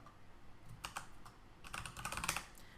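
Brief bursts of keystrokes on a computer keyboard while coding JavaScript, a few scattered taps followed by a quicker run of clicks, close and fairly quiet.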